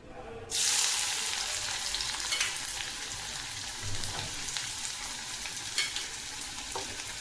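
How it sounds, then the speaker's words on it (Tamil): Finely chopped small onions hitting hot oil in a pan for garlic chutney, a sudden loud sizzle that settles into a steady crackle with occasional stirring scrapes, no talk. "எண்ணெய் நல்லா சூடானதுக்கப்புறம் நம்ம பொடிசாக கட் பண்ணி வச்சுருக்கிற வெங்காயத்தை வதக்கிக்கோங்க"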